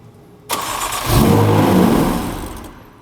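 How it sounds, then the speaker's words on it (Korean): A car engine cranks and catches with a sudden roar, revs for a couple of seconds, then fades down as it dies out, a car that stalls about a second after starting. "이 상태에서 그냥 시동 걸어봐"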